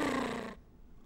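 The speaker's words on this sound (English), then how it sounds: "Listen to that cat snore." A single drawn-out snoring breath from a cat, rough and purring, that ends abruptly and leaves near silence.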